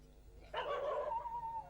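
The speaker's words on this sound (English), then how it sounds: "Dogs of all shapes and sizes, some of them evidently afflicted, some of them evidently recovered from their afflictions, frolic and fight." A dog yelps and then whimpers with a rising, whining cry in a small, noisy courtyard full of dogs. It is a single short vocalization heard alone at moderate loudness.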